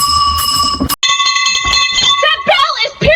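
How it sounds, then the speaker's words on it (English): A bell rung on a porch in the middle of the night clangs with bright, ringing overtones, loud and close, repeating with a brief pause while a person talks over it. "this bell is shaking the entire porch"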